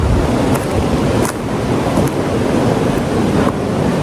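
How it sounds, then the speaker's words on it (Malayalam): A large forest waterfall on the Agasthyarkoodam trek roars as a steady, broadband rush of falling water, loud and close, with no voices over it. "നമ്മൾ ഫസ്റ്റിലൊരു വലിയ വെള്ളച്ചാട്ടം അതിൻ്റെ അടുത്ത് എത്തി ചേട്ടാ അതിൻ്റെ അടുത്ത് എത്തി അതാണ് ഈ സൗണ്ട് കേൾക്കണം"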